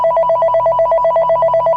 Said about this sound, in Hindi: बेडरूम के टेलीफोन पर एक कॉल आता है।